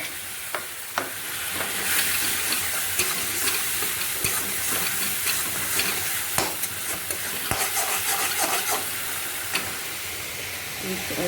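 Tomato and salt go into a hot frying pan, where a continuous crackling sizzle fills the sound, broken by occasional sharp clicks of a utensil against the pan.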